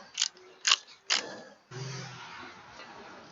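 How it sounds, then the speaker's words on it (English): A torque wrench is adjusted to 50 foot-pounds during cam work on a 2013 Hyundai Elantra, giving three sharp, close ratcheting clicks in quick succession, then a softer steady mechanical whirr. "now I'm going to take my torque wrench, set it to 50 foot-pounds"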